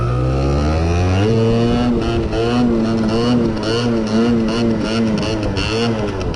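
A Honda moped engine revs loudly and steadily under strain throughout, its pitch rising and wavering as the rider tries to lift the front wheel in a wheelie attempt, with no talk over it.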